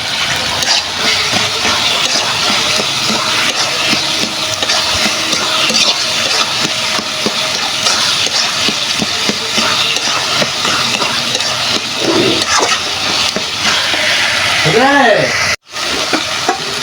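Taro leaves cooking in a pan, making a steady, loud sizzle and hiss with occasional stirring scrapes, and a short break near the end.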